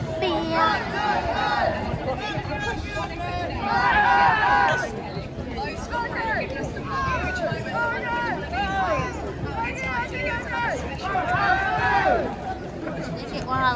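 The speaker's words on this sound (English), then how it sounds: "The crowd is getting thicker." A lively outdoor crowd chatters continuously before an England vs Spain football match, many overlapping voices blending into a busy hubbub with occasional louder calls.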